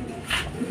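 A racing pigeon coos softly nearby at a loft, a short low murmuring call with no one speaking.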